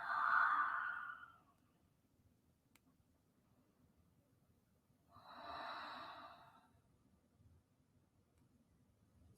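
Slow breathing during a yoga child's pose, with a long exhale at the start and another soft breath cycle a few seconds later, close and gentle over a quiet room hum.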